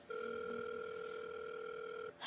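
Steady telephone dial tone in a video game, a flat continuous hum lasting about two seconds before it cuts off into a brief click.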